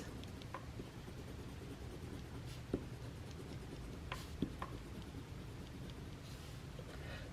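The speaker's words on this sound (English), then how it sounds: "Okay, let's erase." An eraser rubs across paper on a budget planner, a soft continuous scrubbing with a few light taps and knocks, close and quiet, with no talk.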